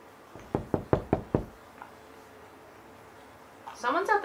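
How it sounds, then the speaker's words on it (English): Knocking on a door, about six quick, sharp raps in a row, close and clear, followed by a quiet pause before a voice starts talking. "Yeah, I just heard a knock."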